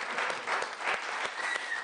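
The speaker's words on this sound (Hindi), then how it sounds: "तालियां बजाइए" A Hindi poetry show audience claps briefly after a poem ends, a short burst of crowd applause with a few rising swells.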